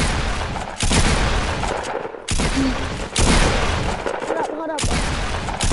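Video game gunfire in dense rapid bursts, several volleys in a row separated by short gaps, loud and close, with voices talking over the shooting.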